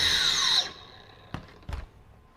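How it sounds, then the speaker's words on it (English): Metabo HPT 36V cordless grinder wheel halted by its electronic brake: a high whine cuts off sharply within about half a second, followed by two soft clunks of handling. "we get an electronic brake, so it's stopping that wheel"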